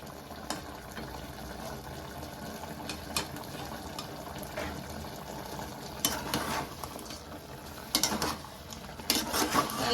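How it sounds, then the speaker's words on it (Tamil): Chicken gravy bubbles and sizzles gently in a pan, a steady simmer with a few brief scraping or stirring sounds. "அதுல நல்ல தண்ணி சவுண்டு கேக்குது பாருங்க"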